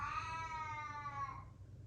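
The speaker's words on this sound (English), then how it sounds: "I think the cat's just trying to contribute to the videos." A cat lets out one long, drawn-out meow close by during a tabletop game of Wingspan, rising and then fading after about a second and a half, with no talk over it.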